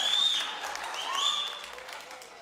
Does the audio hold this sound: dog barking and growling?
no